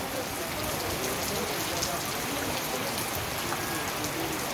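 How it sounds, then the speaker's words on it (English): Small granules of hail fall steadily in a hailstorm in Kumrat valley, Dir, Pakistan, making a dense, continuous patter and hiss on surfaces that stays even throughout. "Now we have a hailstorm. Small granules of hail."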